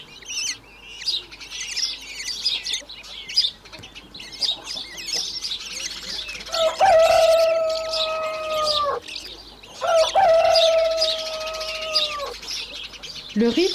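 Kestrel chicks in a nest at Ploufragan call nearby with rapid high chirps and two drawn-out, wavering whining cries, fairly loud and without speech.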